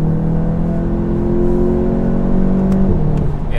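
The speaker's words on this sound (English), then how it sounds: "that's definitely an IS38 engine" A VW Golf GTI TCR with its IS38 engine pulls hard under acceleration, a steady close-up drone of rising engine tone that holds loud and continuous throughout, with a brief dip near the end as it shifts.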